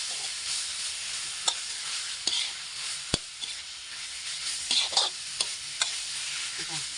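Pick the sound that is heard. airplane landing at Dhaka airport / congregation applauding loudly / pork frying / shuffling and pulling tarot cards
pork frying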